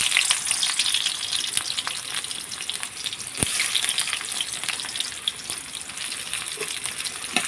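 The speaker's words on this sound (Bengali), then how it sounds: "মাংসটা রান্না করার জন্য আমি কড়াইতে তেল দিয়েছি, এখানে দিয়ে দিলাম এখন পেঁয়াজ কুচি।" Chopped onion frying in oil in a wok before beef head meat is added makes a loud, continuous crackling sizzle throughout, with occasional stirring clicks and no voices.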